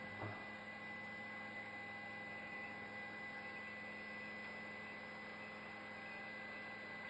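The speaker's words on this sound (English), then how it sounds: "That's a helicopter." Helicopter over a city park produces a steady, distant droning hum with a constant whine, unchanging and fairly faint throughout with no talking.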